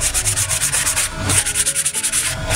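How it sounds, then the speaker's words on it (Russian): Old wood veneer is sanded by hand with rapid rhythmic back-and-forth strokes, a close, loud, raspy rubbing that continues without pause. "шлифуем"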